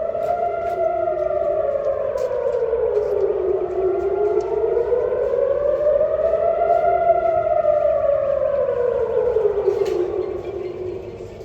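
A loud civil defense air raid siren wails during an Iranian ballistic missile attack on central Israel, its tone rising and falling in slow overlapping sweeps without pause.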